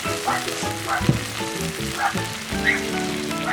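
Tomato sauce for penne all'arrabbiata hits a hot pan with peperoncino, giving a steady crackling sizzle with uneven spits and pops, close and moderately loud, with faint tonal sound in the background.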